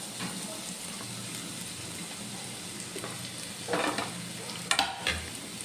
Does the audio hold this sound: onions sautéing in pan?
yes